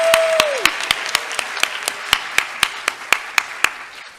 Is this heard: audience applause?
yes